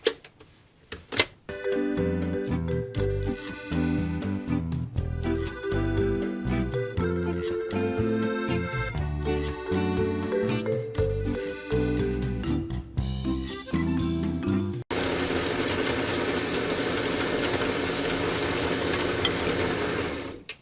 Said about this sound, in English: Now we're going to mix it again.